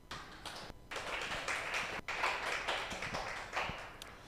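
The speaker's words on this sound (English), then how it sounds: "can you please just clap while he gets on stage?" An audience at a research week event claps steadily while a speaker walks onto the stage, a soft continuous patter with a few brief gaps.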